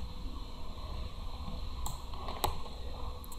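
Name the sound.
computer keyboard shortcut key presses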